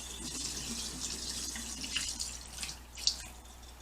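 Turkey brine pours out of a bucket into a sink as a steady, soft splashing trickle with a few drips, close by, with no voices.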